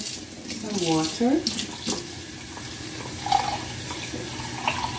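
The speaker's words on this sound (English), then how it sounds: "And I'm going to add some water." Tap water running into a cooking pot of New Year's Hoppin John, a steady close splashing flow with a person talking over it.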